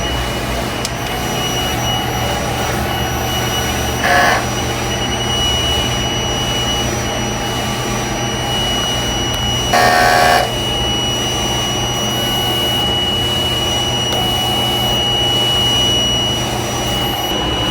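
A large-format sublimation printer hums steadily with a high tonal whine, broken by two short hissing bursts several seconds apart during print head cleaning.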